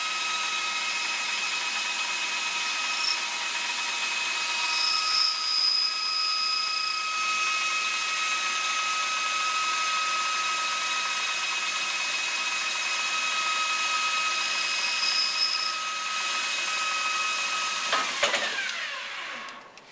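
A metal lathe running steadily as the tool is brought in to take a light cut, a continuous whirring hum with faint high whine, ending in a short scrape and stop.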